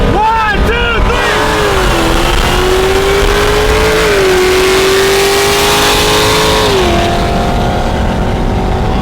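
Turbo F-body Camaro, E85 Hellcat and Kenne Bell supercharged Cobra Mustang drag racing, engines revving loudly and sustained with rising, shifting pitch as the cars accelerate, voices heard briefly near the start.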